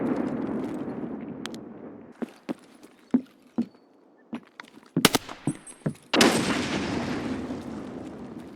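A grenade detonates in a first-person shooter game amid a burst of gunfire, with sharp loud blasts and shots clustered over several seconds, followed by a roaring explosion wash near the end.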